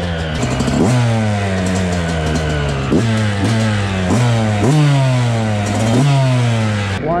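A rebuilt Yamaha YZ 125 two-stroke dirt bike engine revving loudly and up close, with repeated sharp throttle blips rising and falling over a steady idle, no talking.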